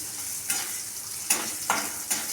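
Sajne data (drumstick pods) frying in hot oil, a steady close sizzle with a few sharp scraping stir strokes at regular intervals.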